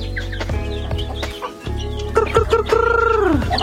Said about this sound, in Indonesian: Kita lihat ayam tuh banyak.